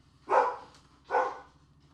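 Two distinct dog barks about a second apart, fairly close and loud against a quiet background hum.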